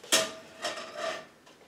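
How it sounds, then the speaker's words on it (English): A cast-iron skillet clanks against a stovetop, a sharp metallic knock followed by a second, softer scrape and rattle of handling, close and alone in a quiet kitchen. "now I have my iron skillet"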